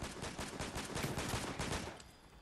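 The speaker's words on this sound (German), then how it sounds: "Schüsse waren aber auch noch rechts von uns" Video-game gunfire in a first-person shooter match, a rapid run of repeated shots in quick bursts like automatic fire, fairly faint and distant, fading toward the end.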